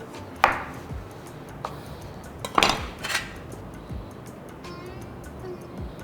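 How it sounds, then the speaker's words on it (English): Knife cutting through potatoes on a board in a kitchen, a few sharp knocks and clacks spaced irregularly, loud and close, with quieter scraping between them. "Some nice potatoes, okay, which I want to actually slice"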